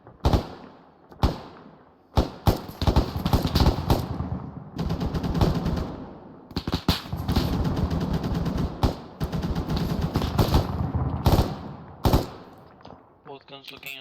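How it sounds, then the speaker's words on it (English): Heavy gunfire poured onto a compound during joint squad training, loud sharp shots in scattered bursts and longer sustained volleys over about fourteen seconds. "Alright, soften that compound. Copy, opening fire."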